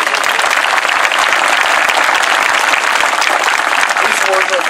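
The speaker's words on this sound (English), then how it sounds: "Round of applause." A round of applause breaks out from a protest crowd gathered at a march opening, steady dense clapping and some cheering with voices mixed in throughout.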